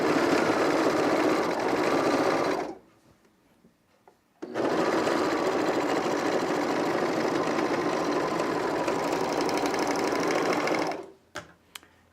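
A sewing machine that is threaded wrong runs in two steady, loud stretches separated by a brief pause, then gives a few short taps at the end.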